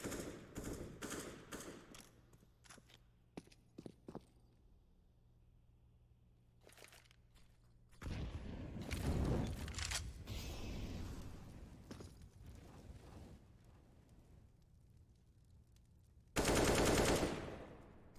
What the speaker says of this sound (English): And blind shot coming through here.